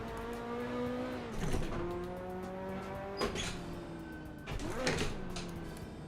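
A car engine in the Assetto Corsa racing game drones steadily while its pitch rises through the gears, with three sharp dips where the revs fall at gear changes before climbing again.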